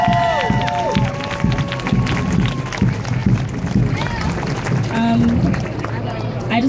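A crowd at an outdoor street march and rally cheers and claps, a broad, continuous roar of voices and applause with whistles and shouts rising through it, and a voice calling out over the noise.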